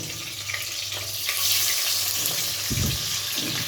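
Running tap water washes fish over a kitchen sink during home cooking, a steady broadband splashing stream that continues throughout with a faint frying sizzle in the background.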